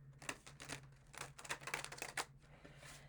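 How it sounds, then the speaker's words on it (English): Tarot cards shuffled by hand in a series of quick papery riffles and clicks, close and fairly soft, with a steady low hum underneath and no talking. "I'm going to do one more shuffle."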